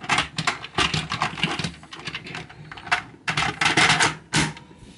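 Plastic parts of a Zyuohger Cube Rhino toy and DX Dodekai-Oh robot being handled, a series of close rattling clicks and snaps in uneven bursts as the piece is pushed into place.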